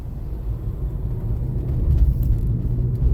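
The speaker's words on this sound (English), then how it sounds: "tow truck should be coming past us any second, and we're going to follow him" A tow truck drives past on a road, a low rumbling engine and tyre roar swelling slightly as it nears, steady and moderately loud with no talk.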